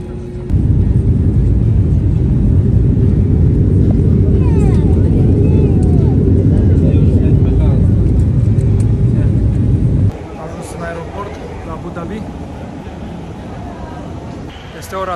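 Loud, steady roar of an airplane's engines and cabin noise on a flight bound for Abu Dhabi, a dense broadband rumble that drops abruptly to a quieter hum partway through, with voices faintly present.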